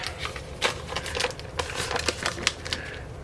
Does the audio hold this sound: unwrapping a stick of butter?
yes